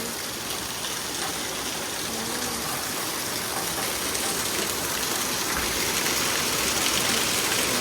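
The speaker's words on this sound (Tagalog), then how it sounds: "Ang lakas ng ulan" Heavy rain pours down in a dense, constant roar, loud and close, with no letup across the whole stretch.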